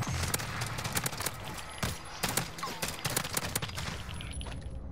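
Video game guns firing in rapid bursts, sharp cracks and volleys scattered across a few seconds at moderate level, with a faint voice in the background.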